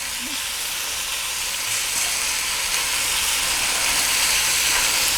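Food searing in a hot pan just after being flipped, a steady, dense sizzle and hiss that builds slightly louder over a few seconds, with no talk.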